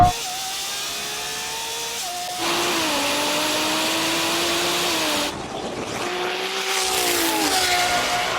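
A BMW M140i and a Lamborghini Revuelto launch hard in a drag race, engines roaring and whining, the revving pitch climbing and shifting through gears, loud and sustained with a brief dip partway.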